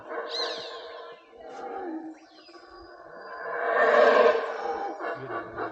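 An alpha male animal in the forest of Tikal National Park lets out deep, throaty roaring howls in swelling bursts, fairly close and loudest toward the end, with no voices heard.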